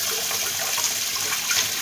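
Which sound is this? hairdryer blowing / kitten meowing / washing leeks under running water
washing leeks under running water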